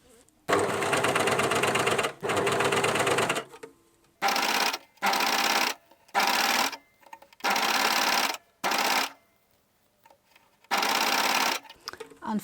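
A new cover stitch sewing machine stitches the hem of a top in a series of loud, even bursts. It runs for one to three seconds at a time, separated by short silent pauses.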